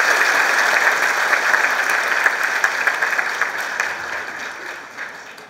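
An audience applauding after a speaker thanks someone: dense, sustained clapping from many hands that holds steady and then slowly thins toward the end, heard alone without speech.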